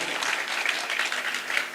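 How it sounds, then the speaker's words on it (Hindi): Audience applauding at an All India Mushaira poetry gathering in Azamgarh, a steady wash of clapping heard from a distance, fairly faint and continuous. "तालियां एक मर्तबा पुरजोश तरीके से बजाइए"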